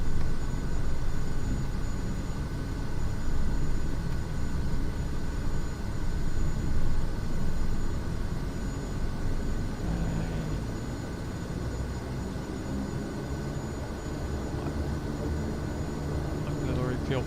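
Light aircraft engine running up in Microsoft Flight Simulator 2024, a loud steady drone and rumble with slowly shifting pitch that continues throughout.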